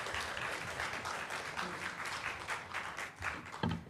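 A church congregation at a Korean Sunday worship service in Tashkent applauds in a fairly quiet, moderately dense burst, with individual claps audible throughout and a few sharper ones near the end.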